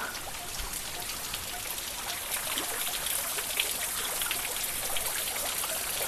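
Steady broadband rush of water spilling over rocky hill edges at a waterfall near Amrabad, a continuous close wash with scattered droplet splashes and no talk.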